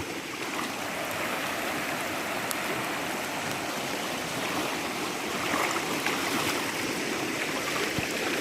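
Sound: floodwater flowing through a cassava plantation after heavy rain

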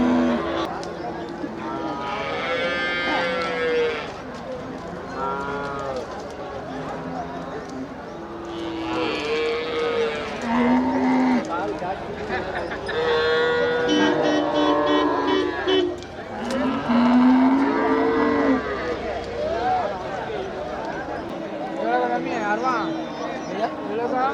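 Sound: cattle lowing at a bullock market

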